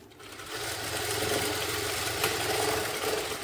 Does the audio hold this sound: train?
no